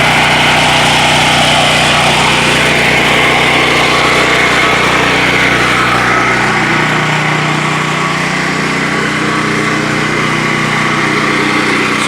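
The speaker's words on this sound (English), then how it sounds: "what you have here is a generator running on nothing but gas fumes" A small gas generator engine runs on nothing but gas fumes, with no liquid fuel. It drones loud and steady throughout, close by.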